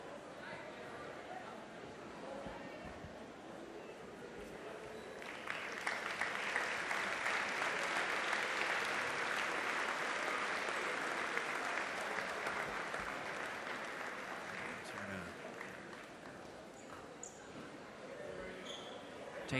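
Spectators at a girls' high school basketball game break into applause, a broad wave of clapping that rises after a few seconds, holds steady, then fades, with crowd chatter and faint court sounds underneath.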